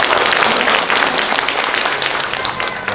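Audience applause in a hall at a provincial government building, dense continuous clapping throughout, loud and steady with a faint murmur of voices underneath.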